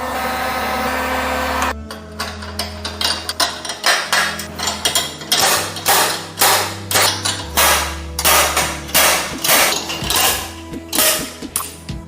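A bearing extractor tool pulls the lower steering race from the fork of a Honda Agility 125 scooter, giving a steady series of loud, sharp metallic hammer-like knocks, close and alone with no talk, over a low mechanical hum.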